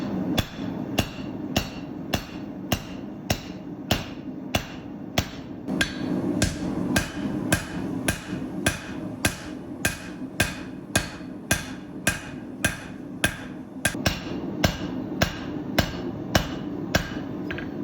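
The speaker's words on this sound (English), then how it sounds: "I stick it back into the fire and forge it into a long bar that I can make a knife out of" Hammer forging twisted Damascus steel into a long bar for a knife, with evenly spaced sharp, ringing blows repeating roughly once a second, loud and close, over a low forge hum.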